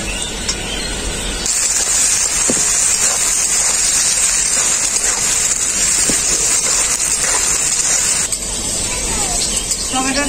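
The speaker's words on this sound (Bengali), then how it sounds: "টমেটোটাকে পেঁয়াজের সাথে ভেজে নিয়েছি হালকা করে।" Chopped tomato frying with onion in a pan for a rui fish curry makes a loud, steady sizzling hiss throughout, with a voice talking over it.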